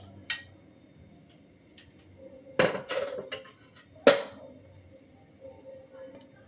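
Yam curry (ol chorchori) stirred in a pan, with a few loud metallic clanks and knocks from the utensil separated by stretches of quiet background.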